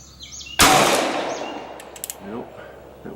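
A single loud shot from a Colt SAA .44 Special revolver fired outdoors at a target, a sharp close blast followed by a long echoing decay, with faint voices and a few small clicks afterward.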